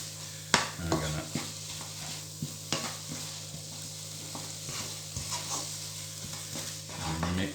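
Shakshuka sizzles quietly in a pan as a utensil stirs and scrapes it, giving a few sharp knocks against the pan over a soft, steady frying hiss, with no voices.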